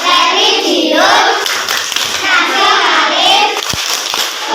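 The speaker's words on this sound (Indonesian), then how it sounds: "Kita tepuk PPK bersama." Schoolchildren perform the rhythmic tepuk PPK class clap in a classroom, quick patterned handclaps mixed with their chanting voices, loud and close throughout.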